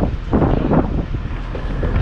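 Strong typhoon wind buffeting the microphone in heavy, gusty rumbles, loud and constant for the whole moment with no voices.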